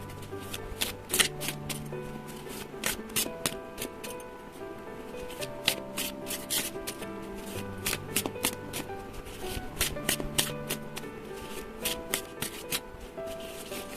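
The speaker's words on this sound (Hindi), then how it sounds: "तो टैरो में से हम 6 कार्ड लेंगे।" Tarot cards are shuffled close by in a long run of rapid, crisp riffling and flicking bursts, quiet but continuous.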